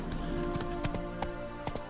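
Horse hooves in The Witcher 3, a steady galloping beat of thudding hoofbeats at a fairly even rhythm, close and clear over a game background.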